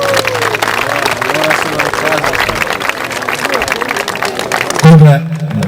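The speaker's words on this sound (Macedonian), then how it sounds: "Аплаузи, не молам." An audience applauds at a folk festival in Dolneni in 2008, during a folk dance performance. Dense, loud clapping runs steadily through the whole stretch, with a voice over it.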